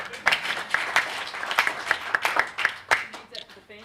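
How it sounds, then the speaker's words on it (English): A short burst of scattered hand clapping from a small group, uneven and crisp, fading out after a few seconds. "Give me a round of applause."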